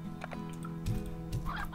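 Hens cluck in the Slime Rancher video game, a few short low clucks around the middle of a brief stretch over steady game music and ambience, with a higher chirpy call near the end.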